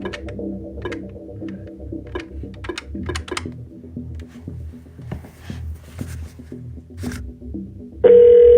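Telephone keypad tones beeping in a quick irregular series as a number is dialed on a phone, followed by a steady ringback tone that starts near the end and holds loud and close.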